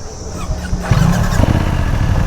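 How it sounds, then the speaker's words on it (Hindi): A BMW F900GS motorcycle with an Akrapovic exhaust idles with a low, steady engine note. It rises in a short rev about a second in and then holds a fuller, louder drone to the end. "तो एक बार एग्जॉस्ट नोट चेक कर सकते हैं आप लोग। तो this is the Akrapovic exhaust."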